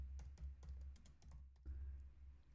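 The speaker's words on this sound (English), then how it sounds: "Let's just type in security cam." Quick bursts of typing on a computer keyboard, soft clicky keystrokes in short runs with a brief pause, close and quiet.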